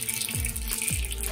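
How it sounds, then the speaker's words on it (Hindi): Mustard seeds (rai) tipped into hot oil for tempering, hissing and sizzling in a steady, fairly loud wash of sound with a few low swooping tones underneath and no talking. "हमारा तेल गरम हो चुका है, अब इसमें हम मस्टर्ड सीड यानी राई डालेंगे"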